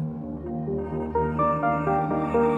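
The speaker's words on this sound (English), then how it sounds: "a piano that's affected by a bunch of modular synthesis." Granular piano tones processed with modular synthesis bloom into a soft, shimmering layered texture with overlapping sustained notes, steady and alone.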